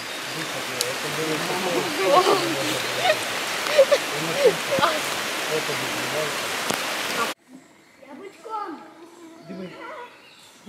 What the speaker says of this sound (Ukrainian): Почався дощ раптово, ні з того, ні з сього.